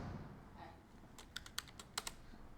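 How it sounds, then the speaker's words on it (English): A burst of typing on a computer keyboard, about half a dozen quick, crisp key clicks in an uneven rhythm, close and quiet in a still room. "I'm going to type"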